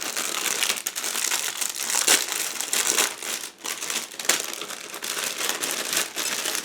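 A plastic parts bag from an IBG Models 1/35 KTO Rosomak kit crinkles and rustles steadily as it is handled up close, with a few sharper crackles and no talking.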